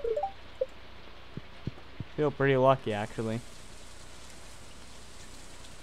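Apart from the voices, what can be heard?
rain in the video game Stardew Valley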